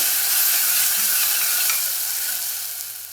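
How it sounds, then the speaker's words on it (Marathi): Ground masala sautés in hot oil for Satara-style urad ghuta, giving a dense, continuous close hiss of frying that fades slightly toward the end, with no voices. "जो वाटून घेतलेला मसाला आहे तो ॲड करायचा आहे आणि आता आपल्याला साधारण 2 ते 3 मिनिटं याला परतून घ्यायचं आहे"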